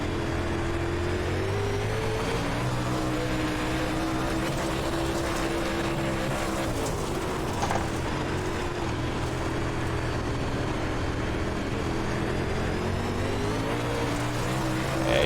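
UMP Modified race car engines roar in iRacing's dirt racing at Williams Grove. A loud, continuous engine drone rises and falls slightly as the cars run, and no voices are heard.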